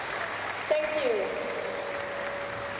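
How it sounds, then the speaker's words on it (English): An audience at a cultural evening performance in Malaysia claps in a steady, continuous round of applause that fills the room at moderate volume, with a brief voice rising through it. "Show by a round of applause."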